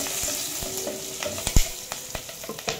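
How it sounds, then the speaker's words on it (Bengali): Garlic and green chilies fry in oil with a crackling sizzle and a few sharp stirring scrapes, close and fairly quiet. "রসুনটা একটু ভাজা ভাজা হয়ে যাক"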